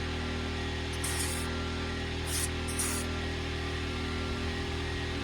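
Compressed air hisses into a car trailer tire through a valve stem in three short bursts over a steady, loud hum from an air compressor.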